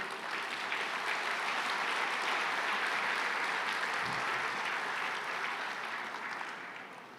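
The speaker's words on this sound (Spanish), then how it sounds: "Denle un aplauso al Señor." Sunday church congregation applauding the Lord, a broad, even roar of many hands clapping at once, sustained at a steady level before tapering slightly at the end.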